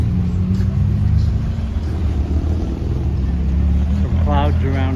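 Street traffic rolls past a construction zone on a main street in Chapala, Mexico, with a steady low rumble of engines passing close by and a voice speaking briefly near the end.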